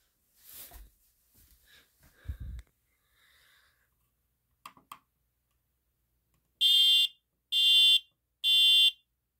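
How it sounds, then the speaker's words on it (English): An SA303 smoke alarm gives three loud, shrill beeps in a regular pattern near the end, after some quiet handling clicks and rustles. "this smoke alarm here is no good, but the other one is good"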